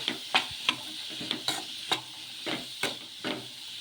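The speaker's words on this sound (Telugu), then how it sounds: "క్యారెట్ తురుము కూడా వేసేసుకొని ఒకసారి బాగా కలిపేసుకుందాము" Grated carrot is stirred into a wheat rava batter, a series of soft close scraping and slapping strokes in an irregular rhythm over a faint background sizzle, with no talking.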